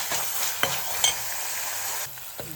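Ingredients for a green-pepper sardine stir-fry sauté over low flame in a pan, a steady hissing sizzle punctuated by a few sharp spatula scrapes and knocks.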